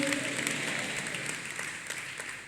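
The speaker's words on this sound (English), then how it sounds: "Clap for Jesus Christ." A church congregation clapping for Jesus Christ during a Sunday service, a sustained, even patter of many hands filling the space at moderate volume, tapering slightly toward the end.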